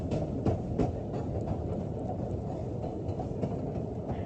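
The Ffestiniog Railway gravity train coasts downhill on narrow-gauge rails, a continuous low rumble with steady rhythmic wheel clicks over rail joints, heard from aboard with no talking.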